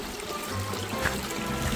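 Steady rushing water from the lower waterfalls at Whitney Canyon in Newhall, a continuous broadband wash heard from a short distance with no voices.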